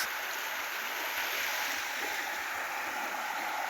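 Steady broadband rush of the South Mills River flowing along a forest trail, heard from nearby as an even, continuous wash of moving water with no voices.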